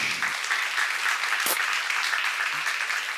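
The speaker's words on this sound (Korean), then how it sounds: "박수 하세요." A church congregation at a seminar bursts into steady applause, a dense, even clapping that runs throughout at full strength with a brief sharp knock in the middle.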